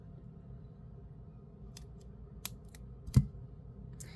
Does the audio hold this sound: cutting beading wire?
yes